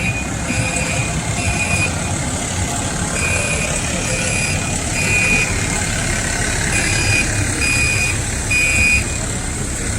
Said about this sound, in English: It's a nice fire truck.